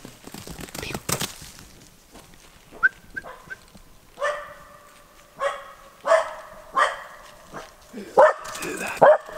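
A young Finnish Spitz barks at a moose in an autumn forest, giving a run of short, sharp yelps and barks at medium distance, spaced roughly a second apart, with someone speaking softly in the background.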